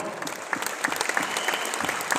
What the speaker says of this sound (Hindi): तो ताली बजाओ